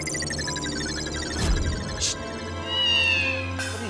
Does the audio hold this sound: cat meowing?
yes